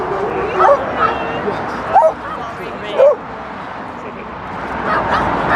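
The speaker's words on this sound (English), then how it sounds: "Interrupted by very lively dogs there." Several lively dogs bark and yip in short sharp bursts, with whimpers and scuffling as they break into a brief fight close by, over steady background noise.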